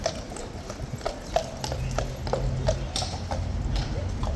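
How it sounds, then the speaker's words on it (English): A Household Cavalry guard horse at Horse Guards clip-clops with slow, irregular hoof strikes on hard ground, fairly close and moderately loud, over steady wind noise in an open courtyard. "This horse has got a face that looks so similar to Raden's"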